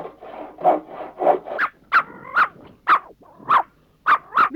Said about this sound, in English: Miss Lovelace's peaks don't like the noise of sawing at all.